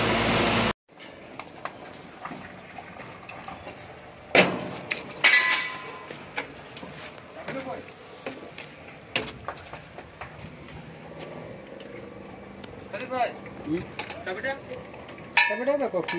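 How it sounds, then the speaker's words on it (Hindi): A check nut is being loosened on a Metso GP11F cone crusher during liner changing. Scattered metallic clanks and knocks ring out at irregular intervals over a low background hum, with some voices nearby. "चेक नट खोल रहा है"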